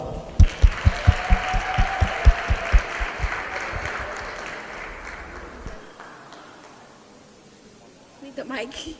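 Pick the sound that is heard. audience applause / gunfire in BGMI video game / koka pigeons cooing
audience applause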